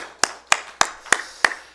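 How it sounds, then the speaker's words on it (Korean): Six sharp, evenly spaced claps ring out in a quiet church service, each crisp and distinct with silence between, sounding like a single pair of hands close by rather than a full congregation. "우리 모두 함께 축하합니다 하는 의미로 우리 박수할까요?"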